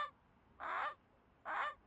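A person imitates a Canada goose with two separate nasal honks, moderately loud and close, with a quiet pause between them.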